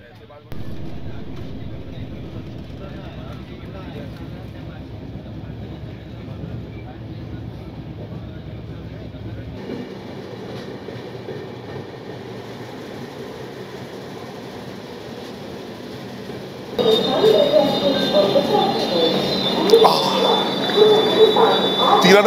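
The Saraighat Express runs from Howrah to Guwahati with a steady, close carriage rumble that holds for most of the run, then grows louder and harsher with added hiss and rattle near the end.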